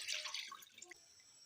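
Eight cups of water are poured into a cooking pot for chicken soup, giving a brief close splash and gurgle that thins into a few quieter drips.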